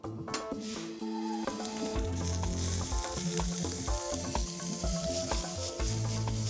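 Squid tubes and tentacles searing in a smoking-hot pan, a loud, crackling sizzle with bursts of spitting and scraping stirs throughout, close and continuous.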